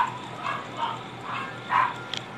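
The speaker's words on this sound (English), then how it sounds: "there's gonna be dogs barking as they take over this guild" Dogs in a video game bark in a run of four or five muffled, moderately loud yaps spaced roughly half a second apart over a steady low hum.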